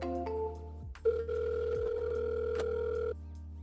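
A steady telephone dial tone hums for several seconds, briefly interrupted by a click and a short change in pitch, heard close and alone while calls are being placed.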